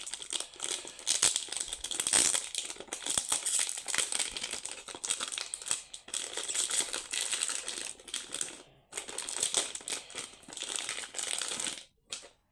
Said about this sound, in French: Pas d'ouverture facile, on enlève le scotch.